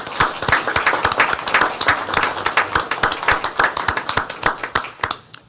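Brisk, close clapping from a small audience at a Richlands town council meeting, welcoming the new Public Works Director, individual claps distinct and sharp, tapering off at the end.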